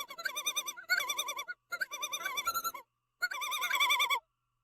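Common loon giving its tremolo call over a lake: four bursts of rapid, wavering yodel-like laughter, each about a second long and separated by short pauses, loud and clear with no talking.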